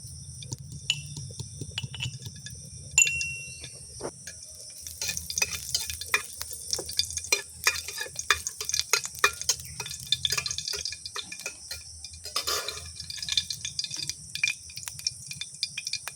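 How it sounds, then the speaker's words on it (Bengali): Dried red chillies tempering in hot oil in a wok for a village-style jute leaf and pea dal, a faint crackle with scattered pops and occasional clinks of a spoon, fairly quiet throughout. "এই যে শুকনো লঙ্কাটা ফোড়নে দিলাম।"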